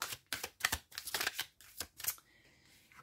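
Tarot cards shuffled by hand for a reading, a run of quick riffling bursts and soft slaps close up over about two seconds, then near silence with a faint tone.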